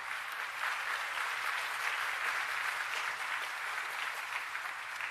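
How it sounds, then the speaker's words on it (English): Graduates at a college health and human services commencement ceremony applaud steadily, a dense, even wash of clapping that holds at moderate loudness for several seconds with no talk over it. "You can applaud yourself."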